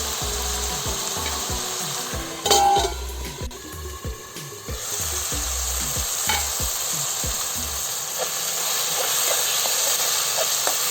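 Two tomatoes sizzle in hot oil in a pan for a village-style drumstick gojju, with a steady frying hiss under repeated scraping strokes of a spoon stirring them.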